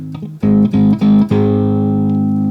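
A loud distorted electric guitar chord, struck in a few quick chops before ringing out and slowly fading.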